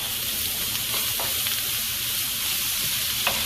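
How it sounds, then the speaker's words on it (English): Squeezed jarred garlic frying in a pan, a close, steady sizzle with a few soft clicks from stirring throughout. "Stir it up."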